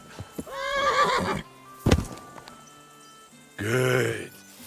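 A horse in the video game Kingdom Come: Deliverance II whinnies, followed by a short thud and quiet stepping, then a second loud neigh; no talking.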